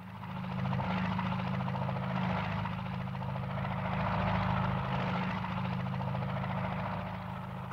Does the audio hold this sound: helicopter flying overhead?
yes